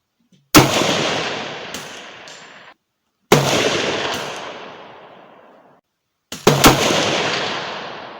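Three loud, sharp .308 Winchester rifle shots fired at a shooting range, spaced a few seconds apart, each cracking hard and then trailing off in a long rolling echo.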